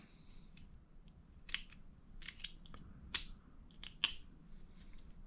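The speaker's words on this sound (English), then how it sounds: "I'll take my knife and trim any excess plastic off." A hobby knife trims excess plastic off an RC car differential, producing a handful of sharp, close clicks and snips spaced over several seconds against quiet background hiss.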